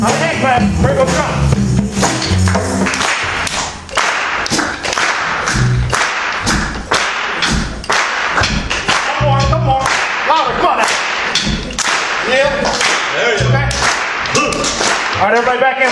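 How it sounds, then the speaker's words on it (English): A crowd at a joyful-noise remembrance event claps in rhythm, with loud, sharp, repeated hand claps and thumps in a steady pattern over about sixteen seconds, mixed with voices and some shuffling. "we're going to do one more hand clap, all right? One more hand clap."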